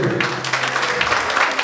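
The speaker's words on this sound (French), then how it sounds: "Sous vos applaudissements, s'il vous plaît." Audience applause at a Congolese music event, a steady dense clapping wash that fills the moment at an even level with no talk over it.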